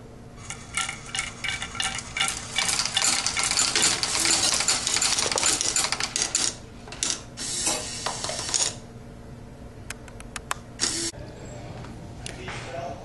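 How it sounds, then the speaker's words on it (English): A VEX robotics marble sorter running: busy mechanical clatter of ratcheting gears and rolling, clicking marbles, dense at first and then thinning into scattered sharp clicks, heard close and alone. "This marble sorter uses two methods of sorting marbles."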